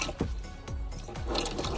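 Engine oil drains from a 2020 Dodge Journey, a close, liquid trickle and splatter with irregular drips and gurgles running continuously through the short stretch.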